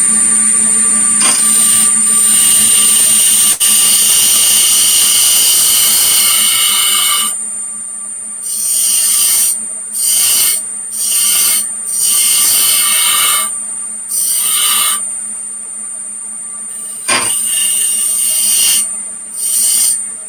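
A wood lathe spins as a tool makes turning passes: a loud sustained high whine with a steady hum for several seconds, then repeated short bursts of cutting separated by quieter gaps.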